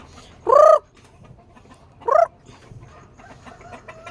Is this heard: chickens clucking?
yes